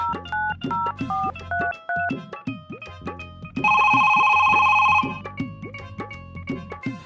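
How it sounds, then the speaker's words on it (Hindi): A phone call being placed, with repeated tonal beeps and chirps over a busy musical background, then a long, loud steady ring tone for about a second and a half before the background music resumes. "अब मिलाते हैं कॉल"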